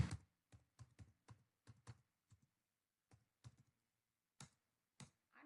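Typing on a computer keyboard while entering an account name in Tally ERP 9 accounting software, with a series of separate, crisp key taps in uneven rhythm, close and alone, and short gaps between the keystrokes.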